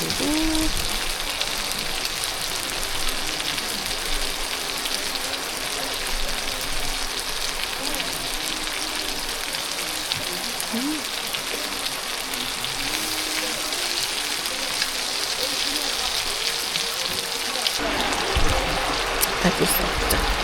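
Steady rain patters down around a car-camping site at a campground during a rainy-day outing, a dense, even hiss of drops on surfaces lasting throughout, with faint scattered taps and a brief shift near the end.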